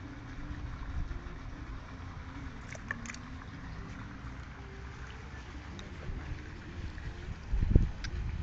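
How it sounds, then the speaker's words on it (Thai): Strong wind rumbles and buffets the microphone aboard a small fishing boat out on the water, a steady low roar with a gust swelling near the end and no talk. "ลมแรงไปหน่อยวันนี้"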